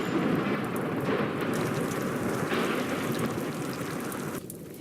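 A thunderstorm and rain play in the video game RimWorld, with a steady loud wash of rainfall and low rolling thunder throughout that eases slightly at the end.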